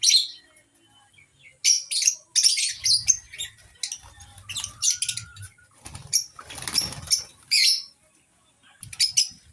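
Small birds in a little home aviary chirp and tweet in quick bursts, with wings flapping now and then and a soft rustle underneath, close and fairly loud, no talking.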